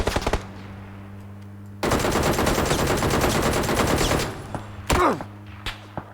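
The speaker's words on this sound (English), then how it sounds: "And now I'm Getting shot." Rapid automatic gunfire hits the player in the video game PUBG: a few sharp shots, then a dense, loud sustained burst lasting a couple of seconds, followed by scattered single thuds and shots.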